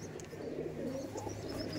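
Shakdum pigeons with young coo softly and continuously at a moderate distance. Light chirps and a low steady hum sit underneath.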